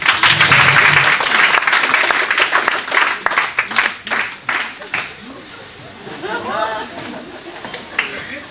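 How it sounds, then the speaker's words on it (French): An audience applauds loudly after a comedy sketch at a spoken-arts show, with dense clapping that thins into scattered claps. A voice speaks over the fading applause. "On peut bien les applaudir bien fort."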